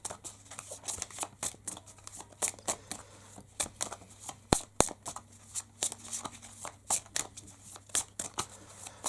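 Tarot cards are shuffled and drawn during a reading, giving close, crisp riffling and slapping sounds in irregular bursts with sharp snaps, and no talking over them.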